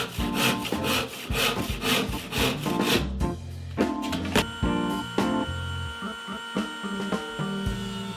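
A hand saw cuts a wooden jewelry box top to size in steady back-and-forth strokes, close and fairly loud, with the rhythm changing partway through to shorter scraping passes.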